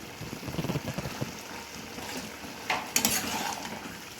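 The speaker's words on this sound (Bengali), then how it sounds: "এবারে মিশিয়ে দিলাম" A spoon scrapes and stirs mutton curry with potatoes in a pan, a steady clatter against the metal that is close and moderately loud, with a brief louder scrape near the end and no talking.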